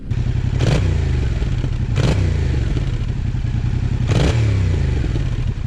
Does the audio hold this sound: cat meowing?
no